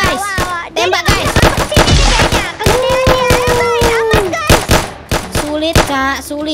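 Rapid bursts of gunfire in a Roblox shooter game, dense repeated shots layered under excited talk from players throughout, loud and continuous.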